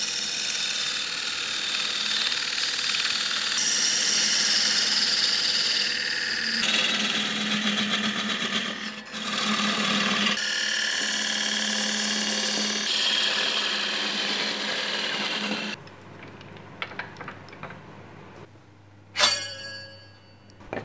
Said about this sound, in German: Korpus und Deckel werden markiert und mit dem Abstechstahl voneinander getrennt.